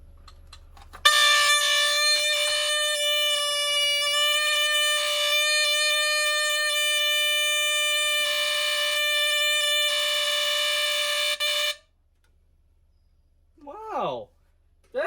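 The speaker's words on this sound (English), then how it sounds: "it has a very odd-sounding horn to it" An Archer 271-578 smoke alarm sounds its horn, a loud, harsh, steady buzzing tone held for about ten seconds, then cuts off, followed by a brief voice.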